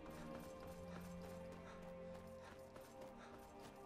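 A horse gallops in Skyrim on Xbox 360, with a steady run of faint, quick hoofbeats.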